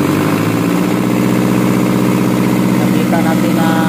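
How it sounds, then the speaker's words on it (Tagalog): An Isuzu Elf truck engine with low power and a wiring fault keeps no RPM, idling with a steady, throbbing mid-low rumble up close while someone talks over it. "Nakita natin na yung engine ay kulang napakating power."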